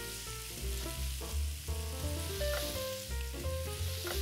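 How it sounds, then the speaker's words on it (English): Kale sautés on top of onion and garlic in a pan, a soft continuous sizzle sitting beneath prominent background music, with no voices. "now we're gonna add the kale on top of the onion and the garlic."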